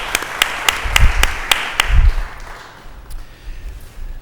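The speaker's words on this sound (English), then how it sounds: "I think they deserve a round of applause" A scattered round of hand claps in a city council chamber, a few sharp claps in quick succession that thin out and fade within a couple of seconds, leaving low room rumble and a few soft thumps.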